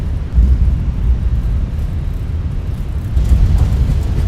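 Airbus A320 thrust reversers roar on landing in a flight simulator, a loud, steady low rumble of jet engine noise that swells at the start and again near the end, with no talking.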